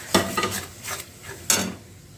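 Tomato paste being fried and stirred in a pan, likely in a Bengali kitchen: three short bursts of spatula scraping and soft sizzle, close and fairly quiet, with no talking.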